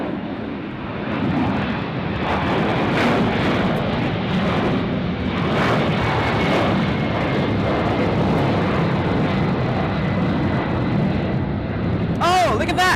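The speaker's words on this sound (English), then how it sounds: "Was that a compressor stall?" A Delta 767 jet roars on takeoff at LAX while its engine suffers a compressor stall, heard as loud sustained jet noise with rough, pulsing bangs; excited voices talk over it near the end.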